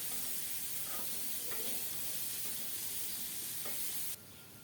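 Chopped small onions fry over very low heat in a pan, a steady close sizzle with occasional stirring scrapes, lasting until it drops abruptly to a quieter hiss near the end; no one speaks.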